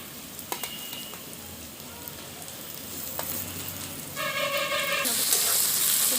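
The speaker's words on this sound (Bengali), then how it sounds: "খুব ভালোভাবে টমেটো আর পেঁয়াজ একসঙ্গে ভেজে নেব।" Tomatoes and onions frying together in a pan, a soft steady sizzle near the mic that swells louder toward the end, joined by a brief tonal whine partway through, with no talk.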